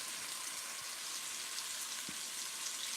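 Chicken pieces browning in a hot pan for fajitas, a steady close sizzle with a bright hiss throughout and a couple of faint soft knocks underneath.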